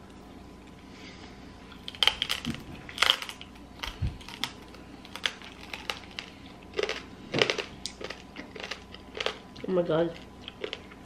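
A dog crunching crunchy treats close up, with irregular sharp crackling bites and chewing spread across the stretch, while people talk and exclaim over it.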